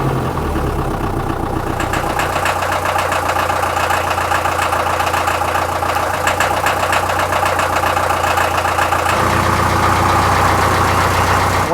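A restored car engine idles steadily and loudly up close, a continuous low rumble with a rhythmic mechanical throb and slight shifts in tone, with no voices.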